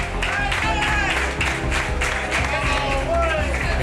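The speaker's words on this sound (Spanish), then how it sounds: "aunque la ovación de los compañeros por el debut no se la quita a nadie" Football teammates give a player an ovation on his debut for U.P. Langreo, a steady burst of clapping and cheering from a close group that runs under a voice talking over it.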